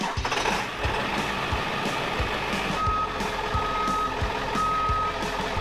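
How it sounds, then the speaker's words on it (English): A custom 4x4 off-road bus rumbles loudly at idle, its deep engine chugging steadily close by while a high reversing beeper chirps repeatedly as it backs up. "he's gonna want this bus started up and backed up"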